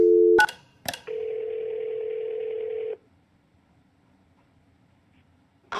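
Telephone dialing in the Kentucky Route Zero video game: two sharp keypad tones, then a steady tone of about two seconds, followed by near silence, with a brief sound returning at the very end.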